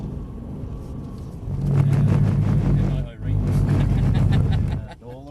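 A Mercedes-AMG C63 saloon's engine revs under throttle, a loud, deep, swelling roar that rises, briefly dips, then surges again, while a voice talks over it.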